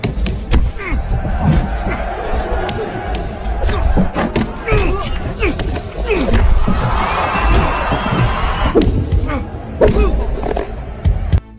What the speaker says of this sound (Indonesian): Sorakan dari penonton sempat membuat Leo hilang fokus